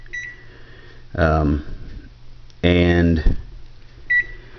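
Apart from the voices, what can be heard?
timer beeping as it is set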